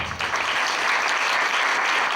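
Church congregation clapping loudly at a sermon, a dense steady wash of hands throughout with no voices over it.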